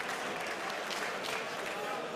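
A large audience claps and cheers continuously after the final match of a Yu-Gi-Oh card tournament in London, a dense, steady wall of applause with a commentator talking over it.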